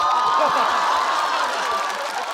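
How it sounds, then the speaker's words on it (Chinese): A stand-up comedy audience breaks into loud, sustained applause mixed with crowd noise, a dense wash of clapping that fills the whole moment. "你们越鼓掌，我做的越快。"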